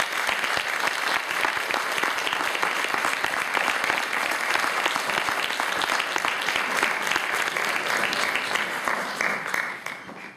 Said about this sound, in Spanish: Moitas gracias por os aplausos.